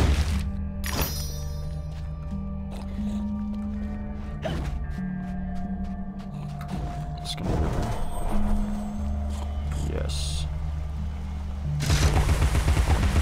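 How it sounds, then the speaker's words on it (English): Repeated cannon blasts from the weapon in the video game Alice: Madness Returns, loud booming shots over a steady game soundtrack, with a denser, heavier burst of fire near the end. "I want to upgrade that cannon. That cannon's really good,"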